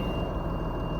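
Warning beeps from the dashboard of a Bluebird school bus converted into a skoolie, sounding as the engine warms up, ringing steadily over a loud low engine idle for the full second.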